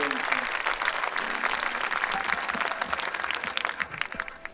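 A concert audience in the ancient theatre of Dion applauds the orchestra with dense, sustained clapping close by, and brief voices call out under it.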